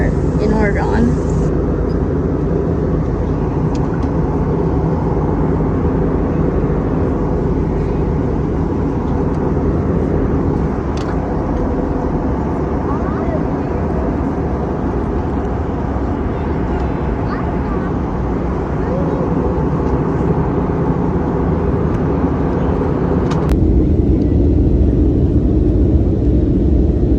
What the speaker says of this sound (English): Now we are starting our descent into PDX, Portland International Airport in Oregon.